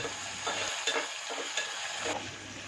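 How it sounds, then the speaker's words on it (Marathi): Steady sizzling of sliced onion sautéing in a pan, with rhythmic scraping strokes of a spatula stirring throughout. "यामध्ये उभा चिरून घेतलेला कांदा 2 ते 3 मिनटं परतवून घ्यावा."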